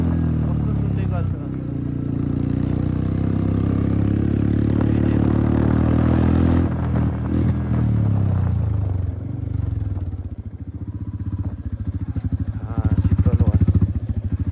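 Royal Enfield Bullet motorcycle fitted with an Akrapovič exhaust, a deep thumping idle close by that rises into revs, then drops to a lumpy, popping burble, with people talking over it at times.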